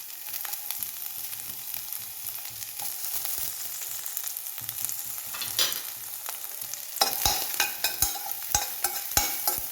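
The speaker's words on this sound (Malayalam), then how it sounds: "എണ്ണ ഒഴിച്ച് വെളുത്തുള്ളിയും ഇഞ്ചിയാണ് ആദ്യം ഇടുന്നത്" Garlic and ginger sizzle in hot oil in a pan, a continuous bright crackling hiss broken by scraping stirs and clinks of a utensil, growing busier and louder toward the end.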